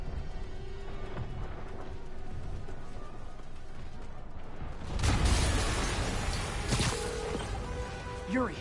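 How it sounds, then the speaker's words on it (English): A game explosion in the Spider-Man PS4 video game: a sudden loud boom and shattering burst midway, followed by a second crash and debris clatter over rumbling game sounds. "an explosion just... I saw it."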